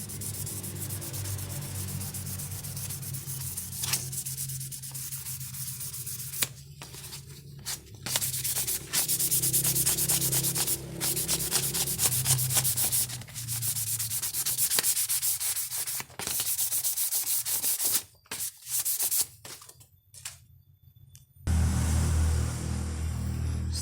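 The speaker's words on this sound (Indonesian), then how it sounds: "Setelah PCB diamplas," Steady abrasive rubbing of sandpaper over a PCB circuit board, continuous and close, with brief pauses and a few sharper scraping strokes near the end.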